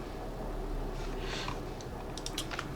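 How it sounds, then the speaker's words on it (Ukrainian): Someone types on a computer keyboard while entering a matrix into Mathcad Prime, a few scattered clicks and short bursts of keystrokes, close and faint, over steady background hiss. "її з клавіатури набиваємо"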